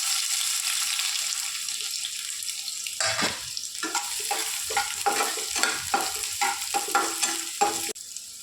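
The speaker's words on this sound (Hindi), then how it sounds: "तो यहाँ पे ऑयल गर्म हो गया है, तो इसमें प्याज ऐड कर देंगे।" Chopped onions hit hot oil in a pan for a drumstick curry: a steady hiss of oil, then a loud, close sizzle with repeated stirring scrapes and clatter.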